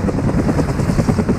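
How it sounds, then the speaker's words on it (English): In a video game survival mode, a helicopter's rotor chops out a loud, steady, throbbing wash that fills the whole moment without pause. "Why is the helicopter here again?"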